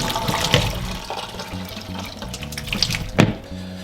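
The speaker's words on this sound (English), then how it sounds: "Once it's cooled, I'm gonna drain the water off. The potato still in the pot. I'm gonna drain the water off." Hot water is poured off boiled potatoes from a pot into a sink, splashing and gurgling in a close, uneven stream with a louder gush near the end; no talking.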